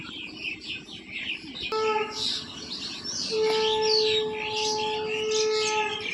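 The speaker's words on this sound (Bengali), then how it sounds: "কি সুন্দর আজকে সকালটা দেখো পাখির কিচির মিচির কিচির মিচির শোনা যাচ্ছে" Birds chirp and twitter steadily in the open air, with a high steady tone humming faintly underneath.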